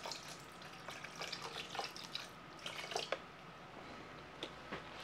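A little water, about a quarter cup, is poured into baby back rib sauce to thin it, giving a soft, close trickle and splash with a few brighter drips toward the end.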